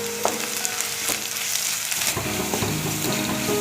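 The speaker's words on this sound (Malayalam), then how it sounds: "4 പച്ചമുളക്, 1 തണ്ട് വേപ്പില, ഇതെല്ലാം കൂടി വഴറ്റിയെടുക്കണം" Sliced onions, green chillies and curry leaves sautéing in hot oil in a pan for chicken thoran, a close, continuous sizzle with a few soft stirring scrapes and no voices.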